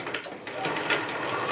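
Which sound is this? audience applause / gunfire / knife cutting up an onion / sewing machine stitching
sewing machine stitching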